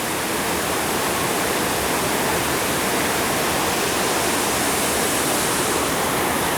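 A stream pours down an artificial waterfall in a garden setting in Central America, producing a steady, dense rushing hiss of falling water that stays even and unbroken from start to finish, with no voices.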